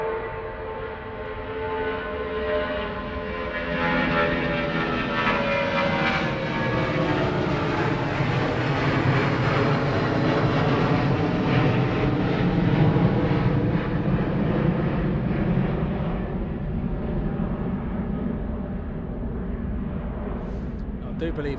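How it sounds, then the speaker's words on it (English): Jet engines of airliners at East Midlands Airport at night, a loud, broad, continuous roar that rises and holds steady for the whole stretch, with a faint voice now and then underneath. "Listen to those engines."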